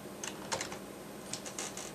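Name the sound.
typing on a computer keyboard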